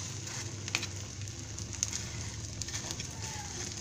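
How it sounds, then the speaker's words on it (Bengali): An egg paratha fries in a hot pan with a steady, close hiss of oil, flecked with a few sharp crackles and pops throughout. "এবং এইটাকে আমরা খুব ভালো করে একটু ভেজে নেব।"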